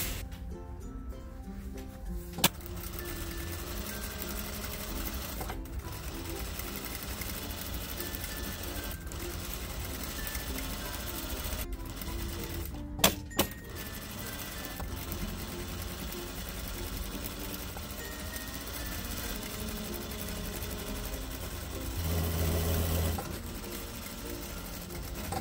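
A sewing machine hums steadily while hemming a vintage robe made from a McCall's pattern, with a continuous motor drone and a few sharp clicks partway through.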